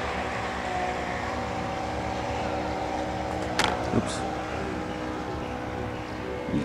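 Twin powerful motors on a Héraclès RC model tugboat churn water at a pond, a steady near hum with water wash and a few brief clicks, while people talk nearby.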